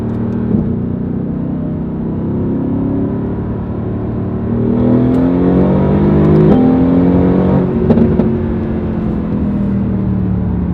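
A Mercedes-AMG GT R engine on the move, its steady drone rising and dropping in pitch through several gear shifts, with brief pops at the changes, loud and close with no talking.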